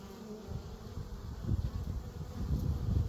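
Honeybees buzz at a hive entrance on a farm, a soft continuous drone of many insects with individual bees droning past close by, no voices.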